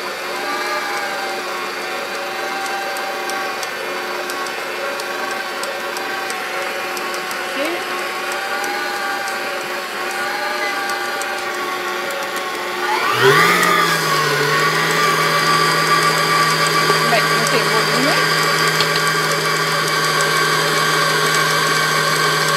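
A blender whirs steadily through a cod fish patty mixture, a constant close mechanical drone that rises in pitch partway through as the motor speeds up.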